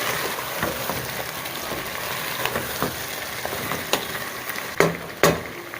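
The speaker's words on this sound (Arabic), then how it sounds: "نحمسهم سوا." Zucchini sautés in a cooking pot with a close, continuous frying sizzle, punctuated by a few distinct clinks and scrapes from stirring, with no talking.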